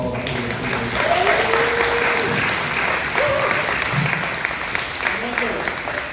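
Audience at an SCC event with the Lt. Governor applauding previous speakers, a dense sustained clapping from a crowd, with voices calling out over it.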